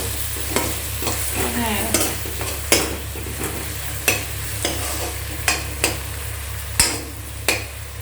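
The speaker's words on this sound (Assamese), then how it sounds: "এইখিনি আৰু অলপ ভাজিব লাগিব" Steady sizzling of fish frying in hot oil, with a continuous crackle and periodic clinks and stirring scrapes from a utensil.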